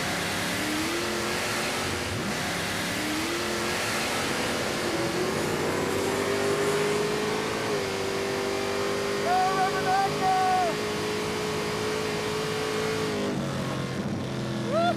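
The Rubber Duck Firebird drag car makes a pass down a drag strip, its engine roaring loudly and rising in pitch as it accelerates. The car runs rich with a badly off tune, and voices talk over it.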